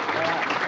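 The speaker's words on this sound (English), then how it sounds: "I hope you can hear that applause in the background." Applause from about 130 Texas high school students, a dense, steady wash of clapping that fills the whole brief moment without a break.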